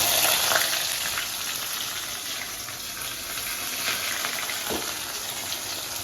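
Green masala frying in oil for a ridge gourd milk curry gives a steady broadband sizzle with a watery hiss, a few faint clinks and a brief tap near the end; no voices.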